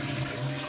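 Water runs steadily from the hand-wash tap on top of a Japanese toilet tank as the tank refills after a flush, a constant close hiss and trickle with no voices.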